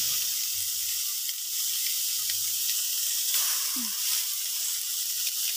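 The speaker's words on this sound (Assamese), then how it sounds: "এতিয়া আমি গৰম কেৰাহীত মাছখিনি দি দিম।" Fish going into a hot wok for an Assamese boiled-fish dish gives a steady, even sizzle and hiss, close and fairly quiet, with a brief low thump near the start and no talking.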